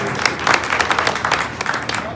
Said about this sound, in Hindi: माननीय विधायक के साथ तालियां।